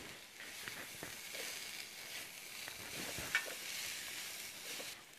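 Sprouted beans and vegetables for a veggie wrap cooking in a pan, a faint, even sizzle and hiss running throughout with a single light clink partway through.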